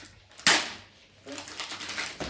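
Gift wrapping is torn open with a single sharp rip followed by a softer, rustling crinkle of paper, close and quiet, with no talking.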